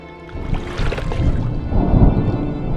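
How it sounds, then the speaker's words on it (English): Distant thunder in the video game Draugen, a low, heavy rumble that swells and rolls for a couple of seconds over a background of rain and water, with no voices. "Was that thunder? Still distant."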